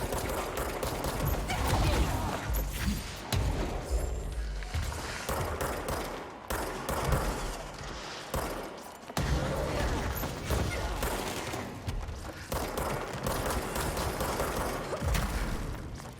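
Gunfire from the Control video game crackles in rapid repeated bursts throughout, loud and dense over a game soundscape, with a voice talking at points.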